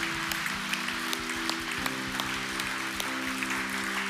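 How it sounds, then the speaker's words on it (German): Church congregation applauding during an Easter service: steady crowd clapping over sustained music with held tones, continuing throughout. "Lasst uns Gott einen Applaus geben."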